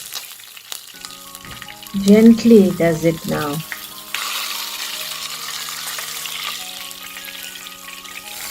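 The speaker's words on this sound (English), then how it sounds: "now fry the flip side for 2 minutes" Fish sizzles in hot oil in a frying pan, a bright steady crackle with a louder burst of spattering and clatter as the pieces are handled, under a softly spoken voice, then settling to a quieter hiss.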